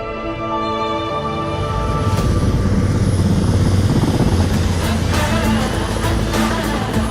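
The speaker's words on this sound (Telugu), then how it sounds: "హెలికాప్టర్ వస్తుంది ఏంటండి?" Loud, continuous rotor thumping and engine roar of a helicopter passing close overhead in a film scene, steady throughout.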